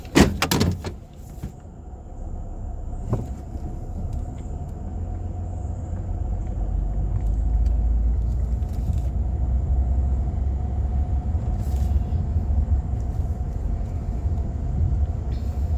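A 2007 Ford Taurus on a short test run, beginning with a few sharp door or interior clunks, then a steady low engine and road rumble that builds slightly and holds, with no talk.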